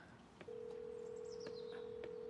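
A telephone call tone sounds as a faint, steady, unbroken electronic note that starts after a brief pause and holds to the end, with soft chirps and clicks in the quiet room.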